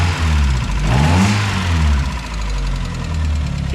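A 1994 Mazda Miata engine runs just after a head gasket repair with a new head, lifters, spark plugs and wires, idling loudly and roughly nearby with a ticking, knocking rumble and slight swells in revs.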